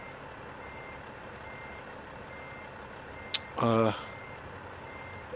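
Reversing beeps from a Kenworth truck in American Truck Simulator, a brief quick burst of evenly spaced tones around the middle, loud against a steady low engine hum, with someone talking.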